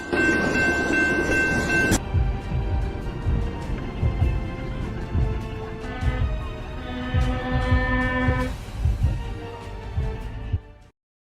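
A moving train smoking heavily rumbles past with a loud, steady low roar and rhythmic wheel clatter, joined by tonal ringing and screeching, before the sound cuts off abruptly at the end.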